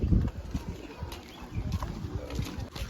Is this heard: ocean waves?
no